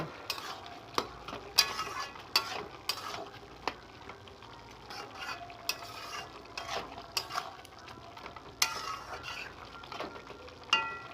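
Radish greens curry stirred in a pan after sugar is added, sharp intermittent scrapes and clacks of a spatula against the pan over a faint sizzle, close and irregular, no speech.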